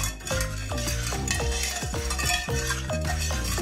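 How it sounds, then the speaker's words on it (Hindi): A spoon stirs pink milk sharbat, Delhi's Mohabbat ka Sharbat, in a glass, with steady repeated swirling and clinking strokes that stay close and clear throughout, no voices. "अभी जो है हमें इसे अच्छे से मिक्स कर लेना है"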